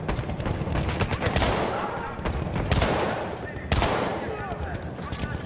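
Gunfire in the video game Battlefield 1: dense, rapid bursts of shots and booming reports overlap almost without a break, loud and close, while a voice talks over the action.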